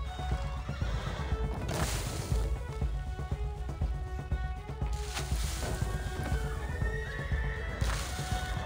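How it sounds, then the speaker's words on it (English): Horses in the video game Unravel Two neigh and whinny loudly several times over steady clip-clopping hooves and a busy game soundtrack, with no talking. "Oh, here come the horses."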